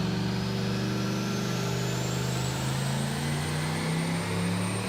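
A turbocharged Lexus LS400 with a 1UZ engine runs on a dyno, a loud continuous engine roar whose pitch climbs steadily through a pull.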